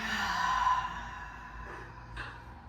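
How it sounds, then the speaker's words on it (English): A single deep, breathy exhale through the mouth after a nasal inhale during a floor workout, soft and close, fading out gradually. "Big breath in through the nose. And exhale."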